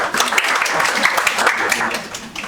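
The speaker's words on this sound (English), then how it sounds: "everybody a big round of applause for attending" Attendees at a seminar on understanding self and others give a round of applause, a continuous wash of clapping from a room full of people that thins toward the end.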